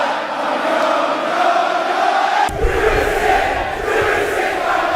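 Arena crowd singing along loudly in unison to a wrestler's entrance theme, a dense, sustained roar of many voices that surges with music partway through.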